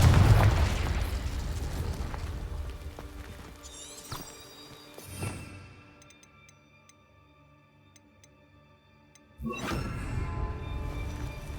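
The Confringo explosive spell cast in the video game Hogwarts Legacy: a loud burst up front, a smaller boom midway, then another rumbling blast near the end, with quieter game ticks and tones in between.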